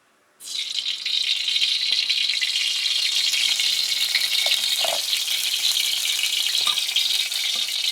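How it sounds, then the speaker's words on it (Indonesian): Hot cooking oil poured into a heated wok for seblak kwetiau sets off a sudden loud, steady hiss and sizzle that holds constant after a sharp onset, with no talk. "Oke, teman-teman sudah panas kualinya. Kita masukkan minyaknya."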